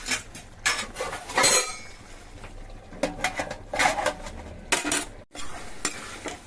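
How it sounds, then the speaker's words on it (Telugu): Metal clatter around a pot of cauliflower curry, with a spoon scraping and a lid clanking on in short bursts of clinks and knocks, up close, over a faint sizzle. "మూత పెట్టేద్దాం."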